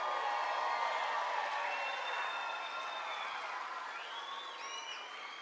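A crowd keeps clapping and cheering for a graduating class at a school moving-up ceremony, a dense continuous roar of applause that slowly eases, with a few whistles near the end.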